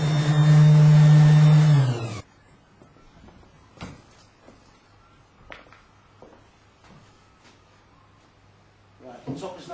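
An electric sander works the wooden top of a vintage furniture piece, a loud, steady motor drone for about two seconds that then cuts off abruptly, leaving faint clicks and handling noises in a quiet room.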